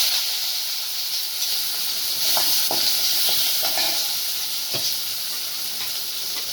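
Onion, dried red chilies, mustard seeds and cumin frying in hot oil for a greens dish, a loud continuous close sizzle with occasional sharp pops and stirring ticks, and no talking.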